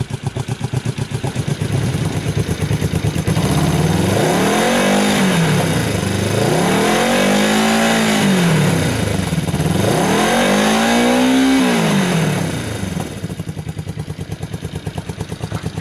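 A Yamaha XS400 SE motorcycle engine runs steadily and is revved up and back down three times in a row, each rise and fall smooth and loud, before settling back to a steady running note.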